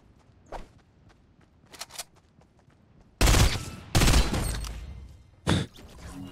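Bursts of FAMAS rifle fire in Fortnite, with two loud volleys back to back and a shorter one after, preceded by light footsteps and small clicks.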